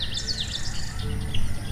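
A sparrow chirps in quick, bright bursts, used as a story sound effect, with a steady insect-like hum and low background rumble running beneath the calls.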